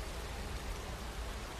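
Water pours steadily in a waterfall in the video game Skyrim, a loud, even, continuous rushing roar with no voices over it.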